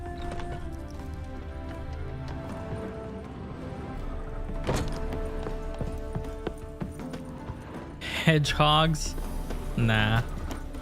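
Horse hooves clip-clop in The Witcher 3 on the Death March difficulty, a steady trotting rhythm mixed under game music, with a short spoken remark and a louder burst of sound near the end.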